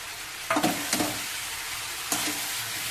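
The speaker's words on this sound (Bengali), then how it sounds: "দিয়ে দেবো আলু আর লাউটা, দিয়ে ভালো করে নাড়বো" Potato and bottle gourd with cumin, salt, turmeric and Kashmiri chilli powder sizzle in a pan, a soft steady hiss broken by three quick scraping stirs of a spoon.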